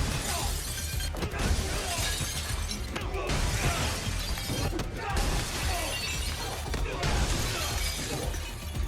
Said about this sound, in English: they then use him to break almost every single piece of glass on the whole floor